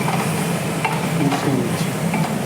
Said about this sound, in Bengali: ডাঁটাটা ভালো করে তেলের সাথে ছেড়ে